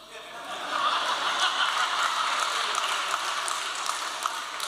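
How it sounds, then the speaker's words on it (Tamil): Applause from an audience at a humorous Tamil literary talk, a broad steady wash of clapping that holds at moderate loudness for several seconds with no voice over it. "இந்த கைதட்டு வாரியார் சாமிக்கு."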